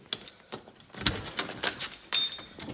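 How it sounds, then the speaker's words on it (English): A set of car keys jangles in several short metallic bursts, fairly close, picked up before a cold-weather cold start of a car at about 7 degrees, with a louder rattle near the end and no talking. "We got the keys."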